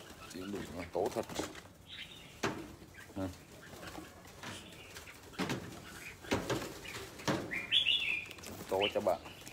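Pigeons coo and flap their wings in short bursts, with a chirp here and there, close by and fairly loud while people talk over them.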